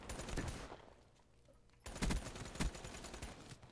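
Bursts of rapid automatic gunfire from Black Ops 3 crackle in dense fusillades, pausing briefly before a louder volley resumes with sharp individual shots standing out.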